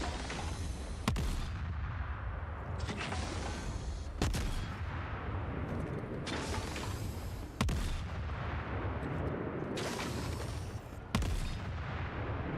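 Gunfire in the video game Forever Winter comes as repeated heavy single shots roughly every two to three seconds, each a loud booming crack trailed by a long rumbling decay, with no talking.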